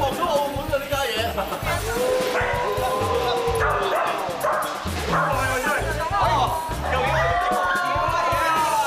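Dogs on an obstacle relay course at a televised game show bark and yip repeatedly amid a cheering crowd, while people talk and shout excitedly over the commotion.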